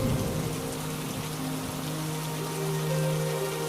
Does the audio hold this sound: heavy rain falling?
yes